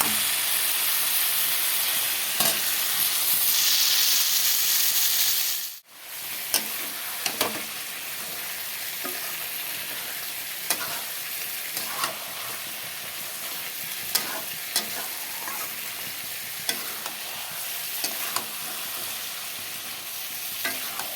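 Meat with spices being sautéed in a pan for a Bengali chicken or mutton curry, giving a continuous close sizzle and hiss with a brief pause and intermittent spatula scrapes and taps, no talk.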